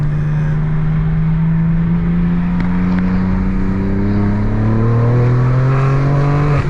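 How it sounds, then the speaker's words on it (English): A BMW G82 M4 pulls hard in fourth gear, its engine note loud and steady as the pitch climbs continuously with no break or gearshift, heard close from inside the car. "that's a 4th gear pull, bro, and this thing is getting out of control"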